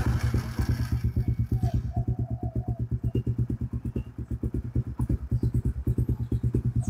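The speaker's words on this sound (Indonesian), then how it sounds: "suaranya si knalpot R9." A Suzuki GSX-R150 motorcycle fitted with an R9 exhaust runs close by, its engine giving a steady, rapid, loud thumping pulse throughout.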